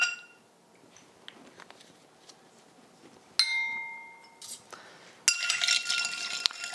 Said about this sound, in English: And then a stir. You have to stir it just enough to get a good mix and a good dilution of the ice.